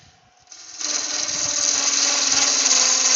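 A power tool cutting a tenon on a small yew log starts up after a short quiet moment, then runs loud and steady with a continuous buzzing whine through to the end.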